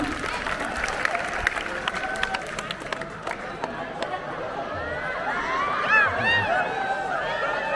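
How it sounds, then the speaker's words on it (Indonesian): Crowd applause rises at a Monday morning assembly with the deputy regent of Gunungkidul, steady clapping and murmuring voices filling the space, with chatter and shouts continuing throughout. "Tepuk tangan kepada paslon."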